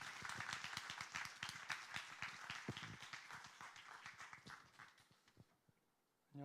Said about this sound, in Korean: 자, 이제 우리 김태훈 선교사님 나오실 때 여러분 뜨거운 박수로 환영하겠습니다.